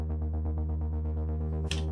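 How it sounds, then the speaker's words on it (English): Plucky synth bass patch built in Serum with automated filter cutoff in a hybrid orchestral style, rapid repeating low plucks over a steady drone, with a brief bright hit near the end. "I'm automating the filter cutoff to get that kind of plucky sound."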